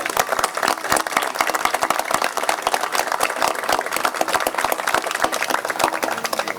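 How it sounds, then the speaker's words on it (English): Dense, steady applause from an audience at a 2012 police memorial ceremony in Missouri City, Texas, with many overlapping hand claps sustained evenly and loudly throughout, no voices standing out. "I think they deserve another round of applause."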